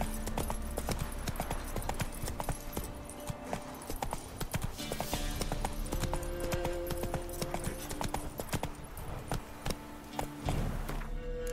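Roach, a horse in The Witcher 3: Wild Hunt, gallops with steady, loud clip-clop hoofbeats throughout, with a brief whinny and game music tones in the background.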